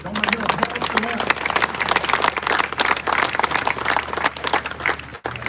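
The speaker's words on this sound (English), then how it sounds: "Don't I get a applause for that?" Audience applause at a statue unveiling ceremony, a few seconds of sustained clapping with crowd noise, fairly close and busy, tapering slightly near the end.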